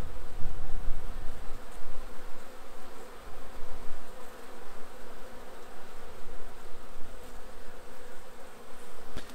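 Honeybees of a weak colony buzz at an open hive, a dense steady hum filling the whole stretch, close and continuous without any voices.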